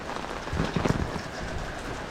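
Rain falls steadily at a riverside water-sports campsite during a heavy downpour, a soft continuous hiss of drops on surfaces with a slight swell midway and no voices.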